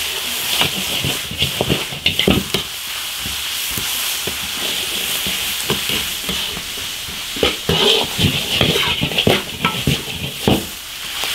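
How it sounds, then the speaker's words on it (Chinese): Beef tripe stir-fried over high heat in an iron wok with garlic, chili paste, Sichuan peppercorns and chilies, giving a steady loud sizzle broken by repeated clattering scrapes and tosses of the spatula against the metal. "炒香下毛肚爆炒"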